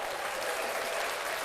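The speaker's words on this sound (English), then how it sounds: "We have a little audio clap." Steady applause from a live show audience, a dense even patter of claps at a constant level with no gaps, played as a short sound effect.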